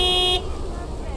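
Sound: truck horn honking in video game Lake

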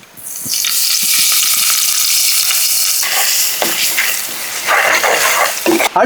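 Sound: mustard seeds, ginger and garlic sizzling in hot oil

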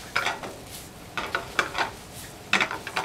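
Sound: stir-frying rice over high heat

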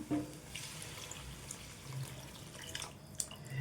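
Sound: pouring water over brinjal pieces for curry

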